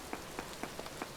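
Rain falls in the voxel survival game Vintage Story, a faint, steady hiss of drops with soft, regularly spaced taps.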